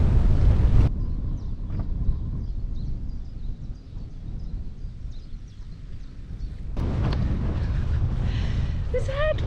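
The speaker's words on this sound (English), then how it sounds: "There's headwind." Steady headwind roars and buffets across the microphone during a Brompton folding-bike ride on a UK-to-Sweden tour, a loud continuous rush with brief gusts and breaks.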